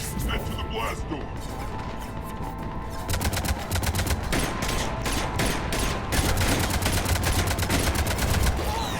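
Ship cannons in Mass Effect 3 fire in a dense rapid barrage of sharp repeated blasts, growing more intense partway through, with game dialogue mixed in.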